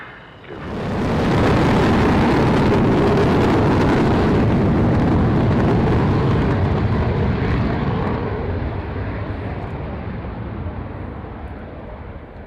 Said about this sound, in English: MiG runway 27, clear takeoff and display.